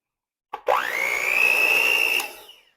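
An electric hand mixer with a turbo setting whirs up from a quick start to a steady high whine, beating butter in a bowl for cheese cookies, then spins down and cuts off after about two seconds.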